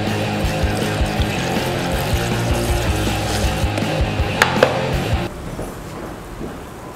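Wine, 500 ml measured out for a mixed drink, pours in a steady liquid stream with a rushing, gurgling texture. The stream is loud and close, then breaks off abruptly near the end and leaves a quieter background.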